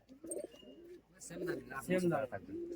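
Giribaz pigeons with black tails flutter and coo near at hand as they are let loose into the air, their calls mixing with a voice speaking nearby.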